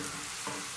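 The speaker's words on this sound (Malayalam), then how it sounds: "ഇപ്പോൾ ഉള്ളി കണ്ടില്ലേ നന്നായിട്ട് തന്നെ ഫ്രൈ ആയിട്ട് വന്നിട്ടുണ്ട് കേട്ടോ" A brief, steady crackling sizzle of small onions and curry leaves frying in oil, close and even, with no voices.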